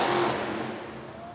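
A monster truck engine roars loudly at a Monster Jam freestyle event inside Crypto.com Arena in Los Angeles. One sustained, rough revving surge eases slightly over its brief span, with no voices.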